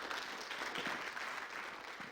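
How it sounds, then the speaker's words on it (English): Quiet, steady applause from an audience gathered inside a temple at a yoga chapter inauguration, dense clapping lasting the whole moment without speech over it. "So give them a big round of applause."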